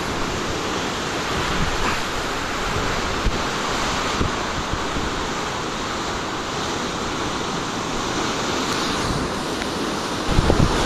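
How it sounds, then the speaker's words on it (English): Ocean surf at Coffs Harbour roars in a broad, steady wash, mixed with wind buffeting the microphone, loud and constant with no voices. "beautiful ocean making a noise there"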